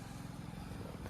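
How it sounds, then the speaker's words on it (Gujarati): Motorcycle engine droning steadily while riding through a market street in a town, a faint, continuous hum heard briefly with no talk. "તો સાંતલપુરમાં એન્ટ્રી લઈ લીધી છે અને ઉભી બજારે બાઈક દોડાવેરા"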